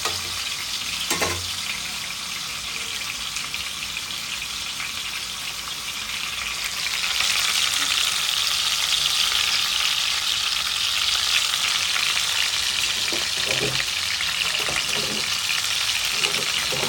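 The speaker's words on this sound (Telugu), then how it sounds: "మా మమ్మీ ఈ చికెన్ని ఇలా ఆయిల్లో అయితే వేసింది" Marinated tandoori chicken fries in hot oil with a continuous close sizzle that grows louder and brighter partway through, broken by a few stirring knocks and clinks.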